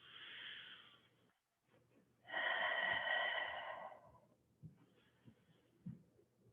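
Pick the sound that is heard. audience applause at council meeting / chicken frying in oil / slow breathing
slow breathing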